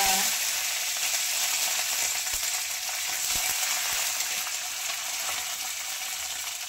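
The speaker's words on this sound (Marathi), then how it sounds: "कसा मस्त तडतडीत तडका झालेला आहे" Garlic cloves, green chillies and curry leaves sizzle in hot oil as a tadka for dal, a loud, steady, bright hiss that runs unbroken from start to finish with a few faint clicks underneath.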